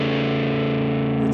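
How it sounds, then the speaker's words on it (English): A sustained, smooth distorted tone from a Gibson Memphis ES-359 electric guitar rings out loud and steady, thick and even with no warble. "It's a totally smooth distortion."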